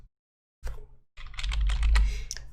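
Someone types the word PowerShell on a computer keyboard after pressing the Windows start button: one isolated tap, a short pause, then a quick, close burst of clicking keystrokes.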